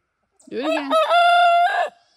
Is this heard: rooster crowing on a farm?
yes